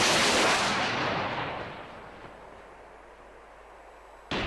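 An anti-tank rocket launched at a BMP-2 in a video game gives a loud, close blast that decays into a long fading rumble, with a sharp new burst at the very end.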